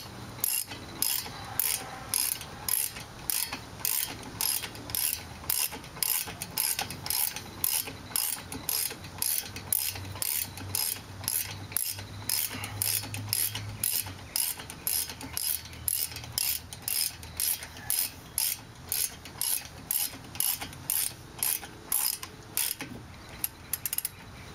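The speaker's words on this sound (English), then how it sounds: "continue tightening up the caliper bolt" A ratchet tightens a caliper bolt on a 2005 VW Touareg brake assembly, giving a long run of fast, evenly spaced clicking strokes, close and crisp, continuing steadily with no talking.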